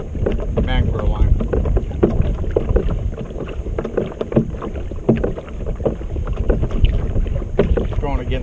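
Wind gusts buffet the microphone while kayak fishing near the mangroves of Caladesi Island, a continuous rumbling roar with paddle splashes and rustling, loud and close throughout.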